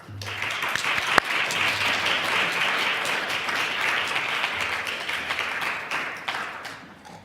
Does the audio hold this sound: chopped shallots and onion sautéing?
no